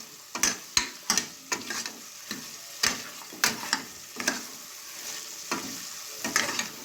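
Mutton for sambar sizzles in a pan while being stirred, with a steady frying hiss broken by repeated scraping clinks of the spoon against the pan at an uneven, brisk pace; no one speaks.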